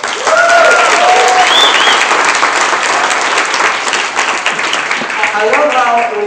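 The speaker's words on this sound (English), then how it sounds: "Give him a round of applause." An audience at a Miami event claps loudly and steadily for about six seconds, with scattered cheers and whoops rising over the dense applause.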